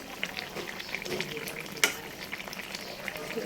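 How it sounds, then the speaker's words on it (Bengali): Tengra fish curry with eggplant and potato cooking in a pan, a soft, faint, continuous bubbling sizzle with scattered small pops and one louder crackle partway through. "এটা দেখেন কি সুন্দর করে মাছের তরকারি বেগুন দিয়ে আলু দিয়ে ট্যাংরা মাছ দিয়ে রান্না করছি"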